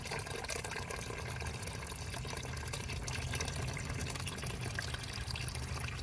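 Water pours into a Toro riding lawnmower in a steady, rushing flow, a constant splashing wash with no breaks and no voices.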